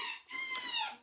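Chickens and other poultry in a rural farmyard, including bantam hens, ducks and guinea fowl, give off a near, steady run of squawks and clucks with a brief lull, in what sounds like heavy rain.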